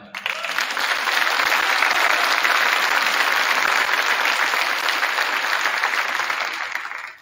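An audience in a school gym breaks into loud, sustained applause for back-to-back state championships, many hands clapping densely, swelling quickly, holding steady, then tapering off at the end.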